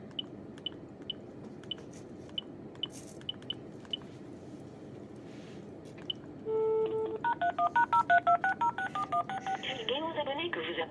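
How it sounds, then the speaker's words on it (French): A telephone keypad dials #31# and then a phone number, making a quick run of close, distinct touch-tone beeps, followed by a brief steady tone and a melodic sequence of call tones, with faint clicks and background noise before it. "on fait dièse 31 dièse et on met le numéro de téléphone"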